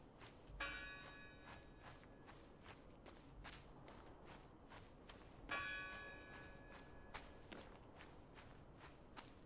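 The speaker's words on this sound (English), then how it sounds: "the bell is ringing." Bell of a hilltop church tolls in the video game Draugen, two rich metallic strikes a few seconds apart ringing out under steady, rapid footsteps on the ground.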